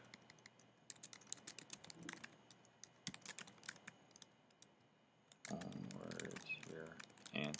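Typing on a computer keyboard while entering text into a document: quick irregular clicks of keys near the mic, growing denser and louder toward the end.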